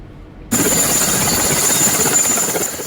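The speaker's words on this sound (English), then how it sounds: "Climbing down from a military helicopter with a notebook in his hand, Southwest Governor Bernard Okaliabilai" A military helicopter cuts in abruptly after a brief quiet moment, then its engine whine and rotor roar hold loud and steady, close by, with no talk.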